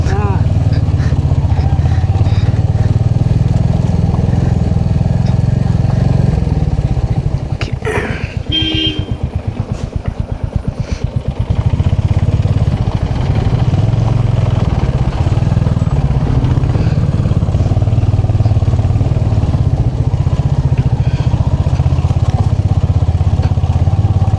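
A Royal Enfield Hunter 350 motorcycle rides off-road on a rough track, its mid-pitched engine droning loud and close throughout with a rattling, bumpy stretch midway, and people talking over it.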